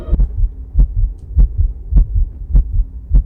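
A unit in the video game Mindustry gives off a steady heartbeat, deep thumping double pulses repeating at an even pace, loud and clean over a faint low hum.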